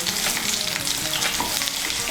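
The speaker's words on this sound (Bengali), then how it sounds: "মিশিয়ে নিয়ে লাল করে ভেজে নেব।" Potatoes fry in hot oil in a wok, a dense, continuous sizzle heard up close and loud with no talking over it.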